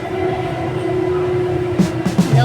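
A metro train runs along its line, a steady rumbling hum with a sustained tonal whine from the carriage, joined near the end by a few brief louder knocks and rattles.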